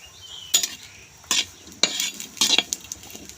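A spoon or spatula scrapes and clinks against a pan while chilies, shallots and garlic are dry-roasted for a Thai chili dip, a few distinct sharp stirring scrapes over a faint background.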